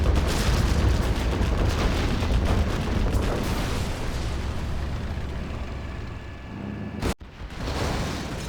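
Rapid chains of game explosions as units hit a minefield in the Command and Conquer: Generals Zero Hour real-time strategy game, dense rumbling booms layered over one another, with a brief sharp crack near the end.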